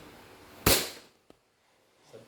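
Pop from a 2011 5.1 SRC Hi-Capa airsoft pistol: one sharp, loud crack that decays quickly, a faint click a moment later, then quiet with a soft rustle at the end.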